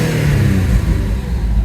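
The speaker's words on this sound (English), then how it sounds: "for those out there that don't like me revving engines when they've only been run for a few minutes" An Alfa Romeo car engine revs up close, a loud, steady mid-pitched roar holding throughout the short burst.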